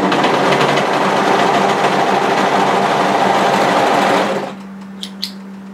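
A sewing machine stitches over existing overlocking on a dress, running in a fast, steady whir for about four seconds before stopping, leaving a low hum and a couple of faint clicks.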